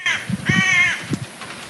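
A crow injured by string tangled around its foot caws several times at close range, harsh rasping calls in short bursts.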